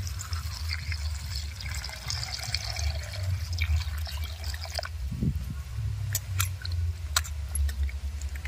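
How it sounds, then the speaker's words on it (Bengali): Chopped banana stem is washed by hand in a basin of water, with soft sloshing, dripping and splashing over a low background rumble. "কলার থোড় বানিয়ে নিয়েছি, এবার ধুয়ে নেব।"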